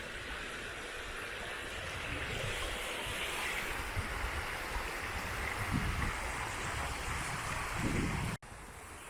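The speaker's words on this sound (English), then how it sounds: "Still nice to get here and listen to the water and stuff." River water flows in a steady, continuous rush outdoors, with gusts of wind buffeting the microphone throughout and a brief drop in level near the end.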